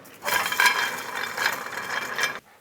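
A torque wrench clicks and ratchets as it tightens a control arm bolt on a 2010-2013 Nissan Versa, a close run of mechanical ratcheting rattles lasting a couple of seconds before it stops abruptly.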